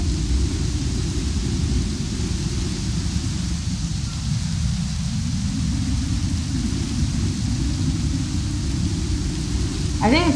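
Heavy thunderstorm with a sustained low roll of thunder from a rapid run of about four lightning strikes, rumbling steadily throughout with rain hiss above it and a brief voice near the end.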